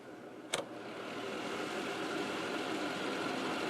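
A Vornado Evap40 4-gallon evaporative humidifier starts with a sharp click and settles into a steady, rising whirring drone that holds at a constant level, heard alone.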